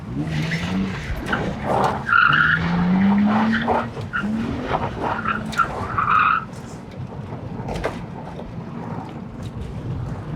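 BMW Z3 drifting on a dried-up riverbed, tires skidding and squealing in bursts over a loud, continuous engine roar that rises and falls with throttle.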